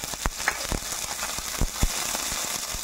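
Tomato dropped into a frying pan with bean sprouts and onion, giving a steady low crackling sizzle broken by scattered sharp pops, fairly quiet and close, with no talking.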